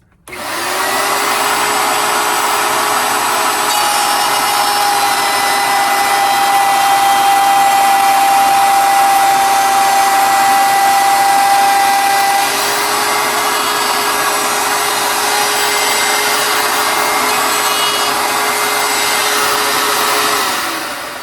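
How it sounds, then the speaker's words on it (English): A router trims the edge of a panel along a taped template, a loud, steady high-pitched whine that holds for about twenty seconds with a slight pitch dip midway. "I routed out the other 3 sides, so I'm just going to show you on the last side."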